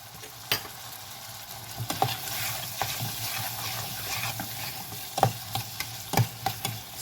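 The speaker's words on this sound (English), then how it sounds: "Sweat these vegetables till they're almost completely done" Vegetables sweating in a pot for hot dog soup, a moderate sizzle under repeated spoon scrapes and clacks against the pot, with no talking.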